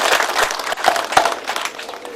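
Audience applause for a master carver at a church ceremony honouring a figure, a dense steady wash of many hands clapping throughout, moderately loud, with no clear voice on top.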